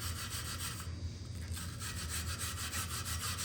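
Continuous harsh scraping of a wire brush against a metal dirt bike rim on a Honda XR250, a steady abrasive rasp heard up close with no talking.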